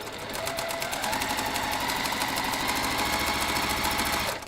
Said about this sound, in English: we're chain piecing, so we're not cutting in between each one